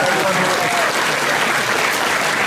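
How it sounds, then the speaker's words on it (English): A large audience claps steadily and loudly at a Liberal Party Chinese Youth Council founding ceremony, honouring Premier Gladys Berejiklian. The sustained applause fills the room without pause, and some crowd noise mixes in. "Let's give her another round of applause."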